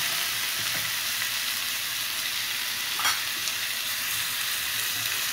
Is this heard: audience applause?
no